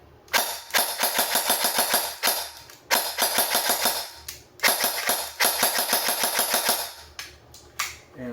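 A Warfet-equipped airsoft gun on a 3-cell LiPo battery fires in semi-automatic, shots rattling out in quick sharp clusters separated by short pauses, close and loud with no talking.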